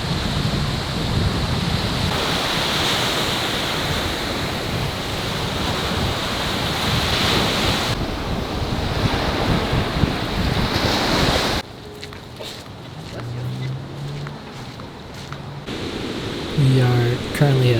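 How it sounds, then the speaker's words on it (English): Large surf up to fifteen feet high breaks at Pipeline on Oahu's shore in a steady roar of waves mixed with heavy wind buffeting the microphone, and the sound shifts abruptly partway through as people talk nearby. "right now I guess the waves are up to 15 feet high and they're washed out"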